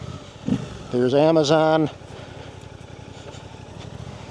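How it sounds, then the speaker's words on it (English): A 2025 Suzuki GSX-8R with a stage 2 DNA air filter, reflashed ECU and stock exhaust revs briefly in a sharp rising burst before settling back to a low idle rumble, with a rider's voice speaking over it. "a 2025 GSX-8R with the stage 2 DNA air filter, a reflashed ECU by David at V-cycle nut with the stock exhaust"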